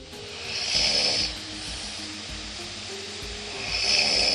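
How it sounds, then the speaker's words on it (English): A sleeping person snoring, captured overnight by a sleep-tracking app: two drawn-out, raspy snores about three seconds apart, close and fairly quiet, with a hushed gap between them. "Here's a night where I snored a lot"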